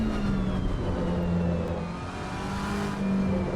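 A GT3 race car engine at Spa in a racing video game gives a steady, sustained drone at high speed with a faint whining tone, continuous and fairly close, with no talk.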